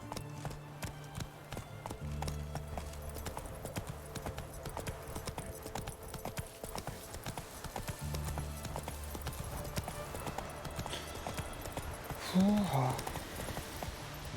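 Horse hooves clip-clop steadily in The Witcher 3 on PS5, a rhythmic trotting beat under game music and occasional voices, with a brief louder burst near the end.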